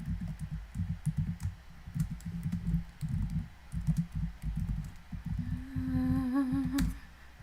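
Steady clicking of typing on a computer keyboard at close range, in irregular bursts throughout, with a rising tonal chime sounding over it near the end.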